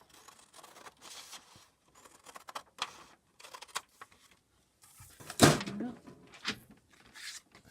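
Sewing scissors snip through tough Tyvek sheet, a series of crisp crunching cuts and rustles at close range, spaced irregularly with one louder crinkling cut near the end.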